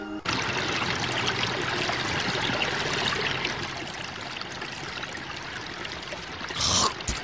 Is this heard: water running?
yes